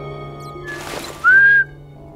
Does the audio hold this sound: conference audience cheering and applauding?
no